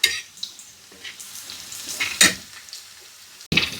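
Onion fries in a pan until reddish for a village-style amaranth greens dish, a soft steady sizzle broken by a few bright stirring scrapes and clinks of a utensil against the pan.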